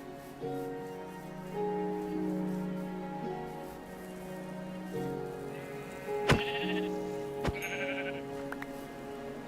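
Sheep bleat in a game soundscape, several drawn-out baas in sequence over a soft ambient hum, with a couple of sharp clicks.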